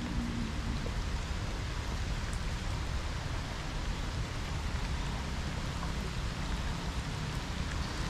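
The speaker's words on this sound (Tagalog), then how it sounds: "Lumalakas na naman ang ulan." Heavy rain pours steadily beside a river, a dense, even hiss of drops close and loud throughout with no voices.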